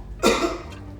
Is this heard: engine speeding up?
no